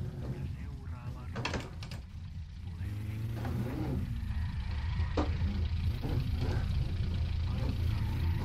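A car in the video game My Summer Car, fitted with tractor-style tyres, revs its engine in a steady droning roar during a handbrake spin, while someone talks over it in bursts.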